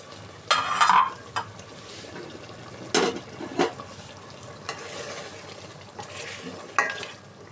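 Food cooks in a pan with a low sizzle throughout, broken by several sharp scraping and stirring clatters of a utensil against the pan, heard close with no talk.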